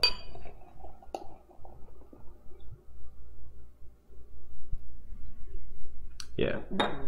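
A bottle of heavily carbonated beer clinks against a glass as it pours and foams into a big head, with scattered light clinks and taps, then a few sharp bright glassy knocks near the end.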